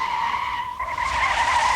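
A car skids with its wheels locked and no ABS, giving a continuous high tire screech that holds steady for nearly two seconds, loud and alone.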